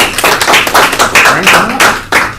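A small audience at a tech lightning-talk event applauds a speaker with a loud, dense burst of hand claps that swells and fades in waves for a couple of seconds.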